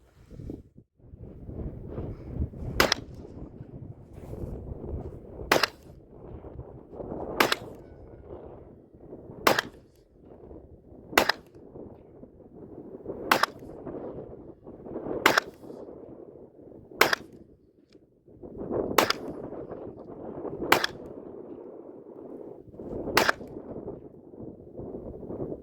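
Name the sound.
Sig P365XL pistol shots at a range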